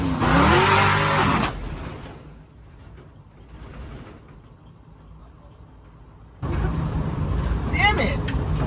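A 1956 Chevy with a big-block engine roars loudly as the gas pedal is floored, in two strong bursts with a quieter lull between them, and voices are heard alongside.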